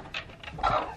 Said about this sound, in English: this coop sounds like Jurassic Park with all these broody hens